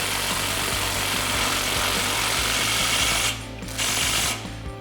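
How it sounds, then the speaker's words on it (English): A ratchet with an 18mm socket tightens the lower sway bar end link bolt while a 3.5-inch suspension lift is installed on a Ram 1500. Steady mechanical clicking runs close and loud, dropping out briefly near the end. "get that threaded on, and tighten it down with our 18mm"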